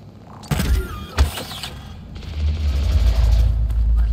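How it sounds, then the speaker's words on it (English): A burst turret firing in the co-op shooter GTFO, a couple of sharp mechanical bursts followed by a steady low rumbling drone, loud and close, with no talking. "Is that your burst turret?"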